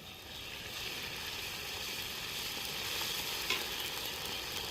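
Ground ginger and cumin paste sizzling in a hot pan with onion and garlic, a steady close hiss of frying that holds evenly throughout, with one small clink near the end.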